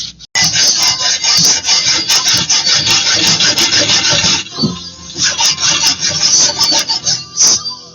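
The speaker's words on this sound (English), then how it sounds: "I'm going to cut that other tab off and grind these things down." Metal tabs on a Moto Guzzi 1100 and 90 hp Johnson project being cut off and ground down, a loud continuous abrasive grinding that runs nearly the whole time with brief dips in pressure.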